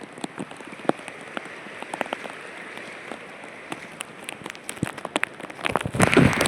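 Steady rain patters on a surface up close, with scattered sharper drops tapping irregularly and the downpour swelling louder toward the end.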